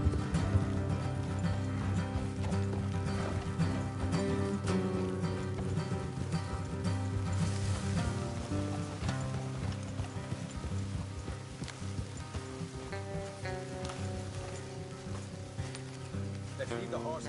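Horses gallop in Red Dead Redemption 2, with a continuous, rhythmic clip-clop of hooves under a musical score and occasional faint voices.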